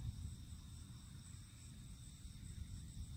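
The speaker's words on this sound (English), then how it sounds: "All these crickets are freaking me out, honestly." Crickets chirp in a steady, high trill at night in a cemetery, faint and constant over a low hum with no voices.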